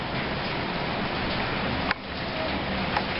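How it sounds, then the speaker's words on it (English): Rain splattering down outside a window where a broken eavestrough lets runoff spill: a dense, steady hiss of drops hitting a surface, constant throughout, with a couple of small sharper taps, no talking. "Oh, and it's a nice rainy day outside. The eaves trough is broken outside my window, so instead of going where it should, it all splatters down"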